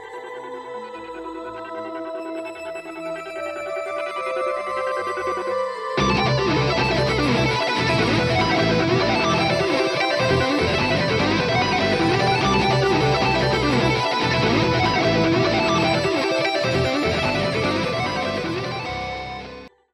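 Drumless section of a progressive metal track, with guitars and bass: a quieter, sparse opening swells into a loud, dense wall of distorted guitar and bass around six seconds, sustained to the end.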